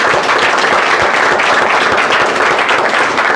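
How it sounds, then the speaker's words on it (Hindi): An audience claps together in a dense, sustained burst of applause, loud and close, with no talk over it. "एक बार सर के लिए ताली बजा दीजिए"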